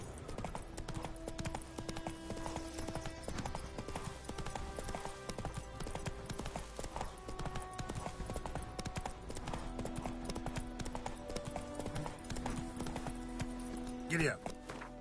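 Horse hooves clip-clop steadily in The Witcher 3, a continuous rhythmic trot under game music and ambience, with a voice talking briefly near the end.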